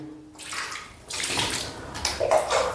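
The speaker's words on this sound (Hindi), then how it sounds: "अब दोनों पैर आपको टखनों समेत धुल लेना है" Water poured and splashing while feet are washed up to the ankles during ablution, coming in two bursts after a quiet start, close and fairly soft.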